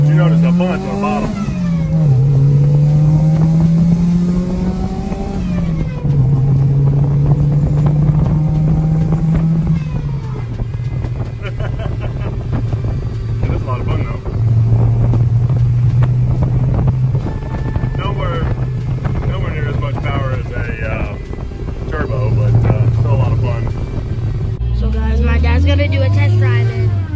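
A supercharger whine from an AMR500 on a 1993 Honda del Sol with a B18C1 engine rises and falls steadily through revs, loud and continuous, with wind noise and people talking over it.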